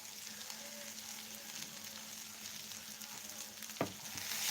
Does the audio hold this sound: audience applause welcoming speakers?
no